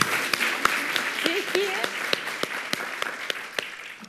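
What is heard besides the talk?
studio audience applause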